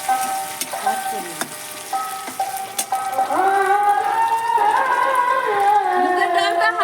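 Mung dal dry-fries in a wok and is stirred with scraping, clattering strokes over a close sizzle, while devotional singing and music carry on in the background.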